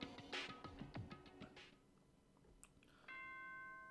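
A Danganronpa game announcement chime rings out after a stretch of quiet clicks and taps, sustained bell-like tones sounding clearly near the end.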